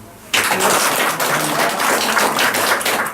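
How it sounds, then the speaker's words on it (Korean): After a brief quiet start, an audience at a smartphone class bursts into loud, dense applause that carries on steadily to the end, close and full. "박수로 한번 해주시죠."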